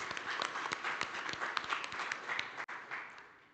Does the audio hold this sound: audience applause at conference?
yes